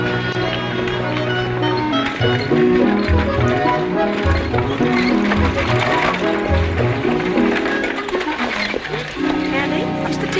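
Horses' hooves clip-clopping on a ranch in a 1948 Western, a steady rhythmic trot beneath swelling orchestral music and people talking.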